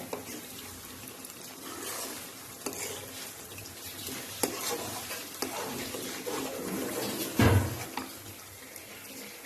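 Milk cream simmers down into homemade ghee in a pan while being stirred: a soft, steady bubbling sizzle with occasional scraping strokes and one louder clatter near the end, close and quiet.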